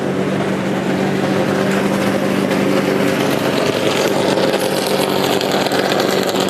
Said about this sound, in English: Listen to those engines getting a little revved up.